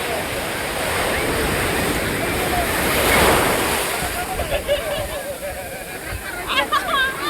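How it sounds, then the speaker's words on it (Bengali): Sea waves surge and crash in a steady roaring wash around people bathing on a cold, rough day, a swell building loud mid-way, with voices talking over the surf near the end. "আজকে প্রচুর ঢেউ রয়েছে"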